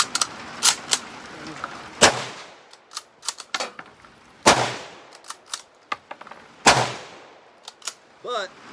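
Rifle cartridges are pushed one by one into the five-round internal magazine of a Mosin-Nagant outdoors in the rain, giving loud, sharp metallic clicks and snaps at irregular intervals, with a brief voice near the end.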